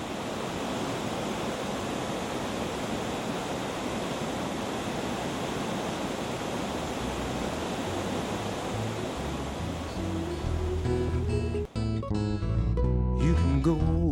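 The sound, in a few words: Stockbridge Falls waterfall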